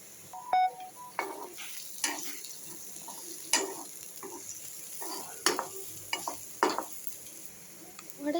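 Something sautés in ghee in a pan with a low, steady sizzle. Repeated scraping and tapping strokes of a spoon stirring against the pan come at irregular intervals, with no talk.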